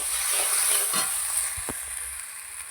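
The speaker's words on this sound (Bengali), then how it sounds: "মাটির চুলায় রান্না করছি নিরামিষ বাঁধাকপি" Cabbage cooking in a pan over a clay stove with a little water added, a steady close sizzle with a few stirring clinks and scrapes, no talk.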